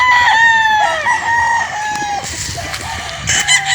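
Several gamefowl roosters crow repeatedly at a Batangas game farm, the long calls overlapping near and farther off, with clucking and farmyard bustle between them and no talk.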